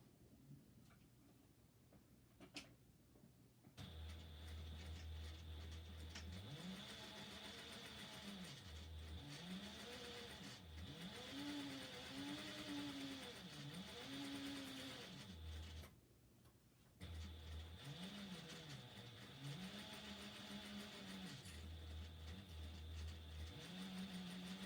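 Sewing machine stitching a lining in steady runs, a humming motor with fast rhythmic ticking that rises and falls in speed, briefly pausing partway through, fairly close and alone without talk.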